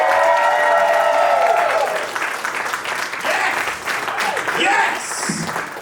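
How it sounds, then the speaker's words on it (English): An audience claps and cheers to welcome a stand-up comedian at Polaris Hall in Portland, Oregon. The applause is loud and sustained, then fades while a voice speaks over it. "Clap it up for him."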